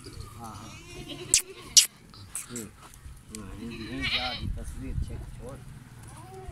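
Goats bleat at a livestock market in Dera Ghazi Khan, Pakistan, with a few loud, sharp calls near the start amid crowd chatter and people talking nearby.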